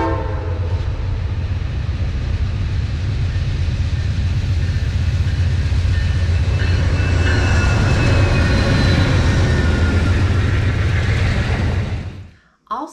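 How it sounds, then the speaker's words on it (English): A train approaches the Ashland, Virginia station along the tracks with a loud, steady rumble building close by, its horn sounding in sustained blasts over the rolling noise before everything cuts off abruptly. "You can see the train coming down the track and hear the conductor blowing the horn as"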